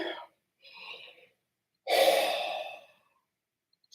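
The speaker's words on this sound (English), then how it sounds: "So I'm yawning." A person draws breath in and lets out a long, breathy yawn, preceded by two shorter soft exhalations, close and intimate in an otherwise silent room.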